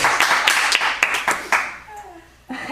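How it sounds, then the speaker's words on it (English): An audience at a Sanskrit course valedictory claps in a quick, uneven burst of sharp hand claps lasting about a second and a half, with voices mixed in, then fading. "Extra claps for advanced Sanskrit comprehension."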